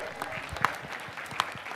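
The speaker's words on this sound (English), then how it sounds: "How about a huge round of applause for our planners?" A brief patter of clapping from a small crowd, light and scattered, with a couple of sharper claps standing out.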